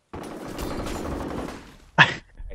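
Gunfire in F.E.A.R. Combat deathmatch on a factory map: a rapid rattling burst of shots for about two seconds, then a single sharp loud report, close.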